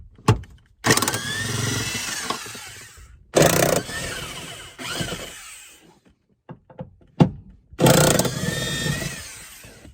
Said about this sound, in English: I have an impact wrench, and I would suggest you use one as well